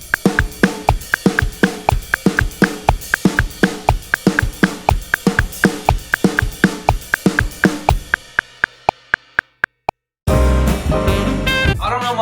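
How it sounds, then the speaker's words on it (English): A drum kit plays a simple pop Latin beat in a steady, driving pattern of close, loud hits. It thins into a few sparse strikes, then a short burst of louder, denser sound closes it. "that is your simple pop Latin beat."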